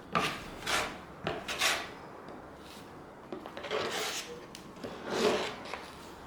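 Trowel scraping and smoothing plaster across a bedroom wall during a first-time renovation, heard as repeated close, gritty rasping strokes with short pauses between sweeps.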